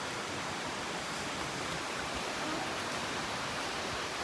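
A stream rushes through Smoo Cave at Durness in Scotland, heard as a steady, dense, loud roar of flowing water that fills the whole stretch without pause.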